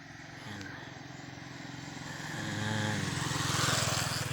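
A motorcycle engine putters steadily and grows louder as it approaches, its rhythmic exhaust pulsing at moderate distance.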